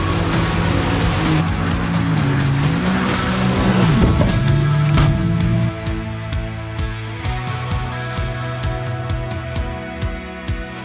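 A stuck Toyota engine drones loud and steady with a low rumbling hum and pitch swells as it works to climb back onto a muddy trail, the tone dropping midway and settling into a lower idle-like rumble with faint clicks.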